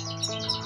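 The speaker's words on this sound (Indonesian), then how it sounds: "Yang kenari kenari loper rasa impor." A canary, a loper kenari, gives a few quick, thin chirps close by in a brief burst. No one is talking.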